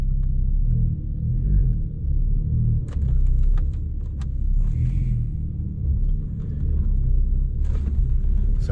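A BMW 135i drives along with a constant low engine and road rumble from inside the cabin, with occasional small rattles and clicks.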